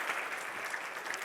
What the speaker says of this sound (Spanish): dale un aplauso al Señor, dale un aplauso fuerte